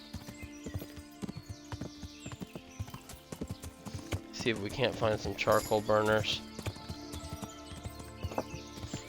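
In the video game Kingdom Come: Deliverance, a ridden horse clip-clops along a riverside path, with a rhythmic run of hoofbeats and a swell of faster steps midway, while someone talks over it.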